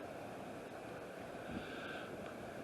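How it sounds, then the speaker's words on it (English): Cold wind blowing outdoors near the river bluffs at Emerald Mound, a steady faint rushing roar buffeting the microphone with no talking. "the wind is blowing, and it just blows right through you"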